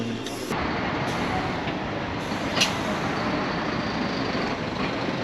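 A bus pulls in at a stop with a constant loud hum of engine and road noise inside the cabin, and brief hissing bursts like air brakes near the start and middle.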